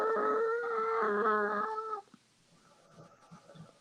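A person mimics an angry cat with a loud, harmonic yowling snarl lasting about two seconds at close range, followed by faint scattered noises.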